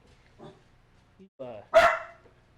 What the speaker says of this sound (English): Both my dog started howling somewhere in the background, and then his dog started barking along with her.